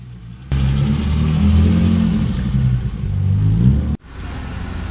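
A BMW 3.0 CSi classic car at a historic road rally drives past with a loud, steady low engine rumble that swells for about three seconds, then cuts off abruptly before a quieter tail of running engine.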